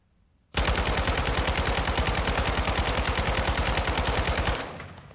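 Cast-off 7.62 rifle in Warzone 2 firing one sustained full-auto burst of about four seconds, rapid evenly spaced loud shots close up, ending in a short fading echo with no talk.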